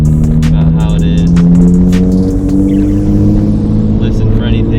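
A Nissan 350Z on its first drive after a coilover installation, engine note loud and close from inside the car, revving and rumbling steadily with occasional clicks and knocks.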